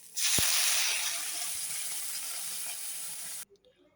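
Water poured into a sizzling prawn curry masala with yam sets off a loud sudden hiss that slowly eases into a steady sizzle, then cuts off sharply near the end.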